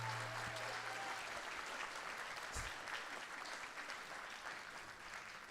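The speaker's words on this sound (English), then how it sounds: "Please give her a round of applause." An audience at a winter instrumental concert applauds their stage manager, a steady, dense wash of clapping that holds for several seconds and slowly tapers, with one brief low thump partway through.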